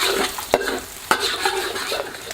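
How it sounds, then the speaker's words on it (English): Three whole eggs being scrambled in a hot pan for fried rice, with steady close sizzling and frying broken by a couple of sharp spatula scrapes and stirs against the pan. "we're now going to add in our 3 whole eggs. We're just going to give this a bit of a scramble"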